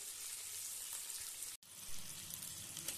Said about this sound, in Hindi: अब हम इसको सेपरेट कर लेंगे और बाकी के टुकड़ों को फ्राई कर लेंगे।